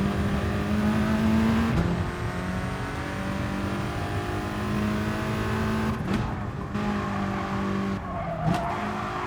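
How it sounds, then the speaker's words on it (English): A race car in GT Sport at Brands Hatch downshifts and revs: loud engine tones drop in pitch then climb again, with brief blips around the gear changes and a sustained roar between them, no voices. "Shift down to second and back up to third real quick so I can get the power out"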